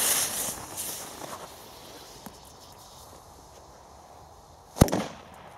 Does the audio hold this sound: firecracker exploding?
yes